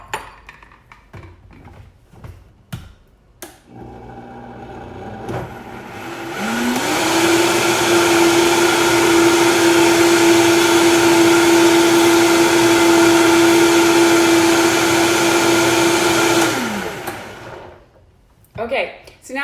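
A kitchen blender whirs loudly for about ten seconds, mixing chia donut batter, with a steady motor tone that rises in and cuts off, bracketed by handling clatter and talking before and after.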